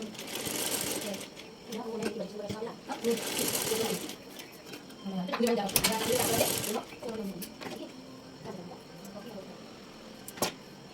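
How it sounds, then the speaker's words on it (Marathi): Sewing machine running in bursts while stitching tassels onto a fabric top, several loud whirring runs separated by pauses, with someone speaking over and between them. "तर हे आपण दुसरं आता स्टिच कसं करायचं आता ते पाहू"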